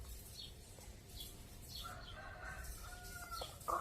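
Chicken sounds, soft distant clucks and short calls scattered over faint background noise, with a sharper call near the end.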